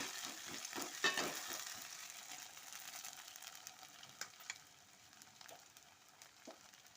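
Curry leaves hit hot oil with a sharp crackling burst near the start, then settle into a steady sizzle and frying hiss with scattered pops and stirring scrapes, close and fairly quiet, with no talking.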